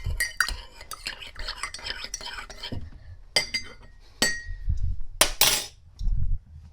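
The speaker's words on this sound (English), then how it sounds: "Let's give it a stir." A spoon stirs borage tea in a glass, ringing clinks and tinkling scrapes in quick bursts, loud and close, with quieter gaps and low rustling between them.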